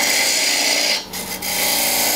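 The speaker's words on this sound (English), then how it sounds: "I'm just going to take my parting tool and remove some excess wood." A parting tool cuts into a spinning piece of wood on a lathe, making a steady, close scraping hiss that briefly dips midway and then resumes at full strength.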